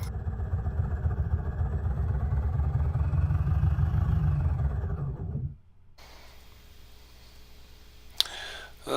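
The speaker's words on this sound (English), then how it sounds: "I'm going to shut off the master and then the key switch so the mags are cut out and kill the engine." A light aircraft's piston engine shuts down after the magnetos are cut, the steady droning rumble winding down and stopping, followed by quiet cockpit hum and a brief sharp click.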